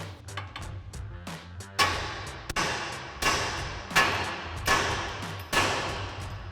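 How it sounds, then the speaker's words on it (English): Several sharp hammer taps ring out against a steel steering knuckle on a 2015-2020 Ford F-150, struck to break loose the ball joint, coming as about six close, loud metallic thuds at an uneven pace. "grab our hammer and give our knuckle a few taps here to separate that ball joint."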